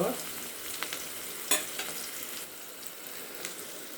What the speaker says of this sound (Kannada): ನೋಡಿ, ಆನಿಯನ್ಸು ಚೆನ್ನಾಗಿ ಫ್ರೈ ಆಗಬೇಕು.